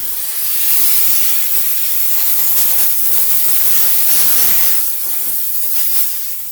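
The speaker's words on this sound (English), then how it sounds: "now we go back to steam and that blasts it out." A Chief Steamer 125 PSI steam cleaner blasts steam out of its hose while cleaning car door jambs, giving a loud, continuous, rough hiss that swells and eases slightly without pause.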